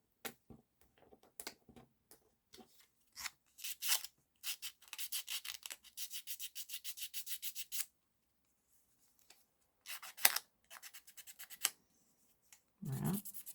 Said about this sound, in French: je vais poncer les bords